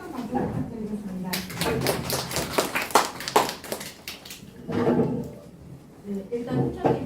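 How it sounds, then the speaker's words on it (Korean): Parents and students at a Korean high school admissions information session clap for a few seconds in a short, crisp round of applause, and a speaker talks before and after it. "다시 한번 따뜻한 박수 부탁드리겠습니다."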